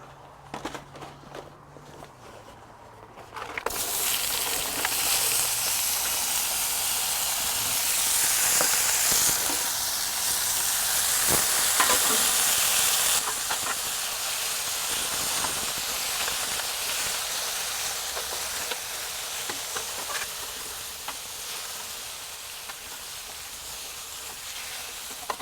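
Vegetables sizzling in high-heat ghee on a Little Griddle SQ180 outdoors in cold weather, a loud steady crackling hiss that bursts in after a quiet start and holds with scattered pops.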